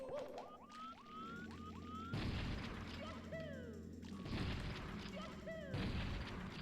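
Shotgun blasts boom out in a Super Mario 64 game mod, three loud bursts spaced a second or two apart among chirpy game sound effects and voice clips.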